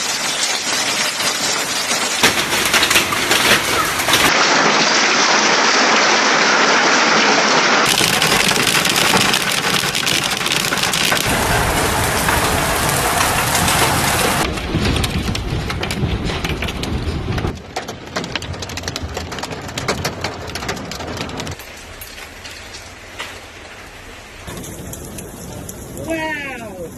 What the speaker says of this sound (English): God, look at the size of this hail